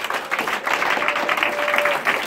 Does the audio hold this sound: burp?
no